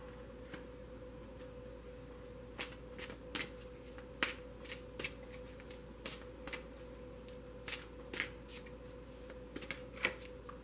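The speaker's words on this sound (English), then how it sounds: "I'm getting you one of my daily angel guidance cards. And one of my Archangel Michael cards" Angel guidance oracle cards are shuffled and drawn, with soft riffling flicks and sharp card snaps in an uneven rhythm, quiet and close, against a faint steady background hum.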